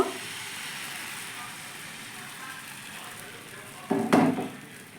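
Flour batter sizzles in an oil-brushed pan with a steady soft crackle, and a brief louder clatter near the end.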